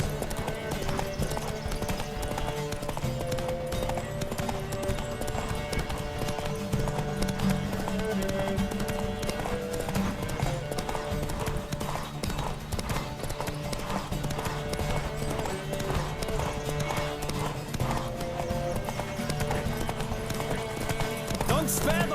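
A horse gallops in a race in The Witcher video game, with rapid continuous hoofbeats running throughout under game music, along with occasional whinnies and voices talking over the top.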